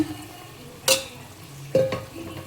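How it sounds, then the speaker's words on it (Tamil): Washed chicken goes into a hot frying pan for a meat curry, with a few sharp clattering strikes of stirring against the pan over a low, steady sizzle. "கழுவி வச்சுருக்க சிக்கனை போட்டுருங்க"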